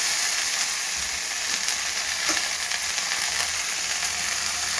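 Carrot, capsicum and beans sizzle steadily in a hot pan, a continuous bright hiss with faint crackles and a light scrape of stirring, no voices.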